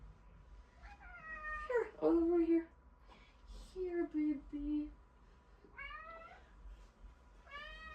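A house cat meows several times, some short and some drawn-out and wailing, close by and indoors, while a person calls to it softly in between.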